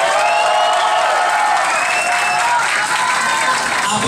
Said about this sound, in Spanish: Aplausos para Mimei Davis.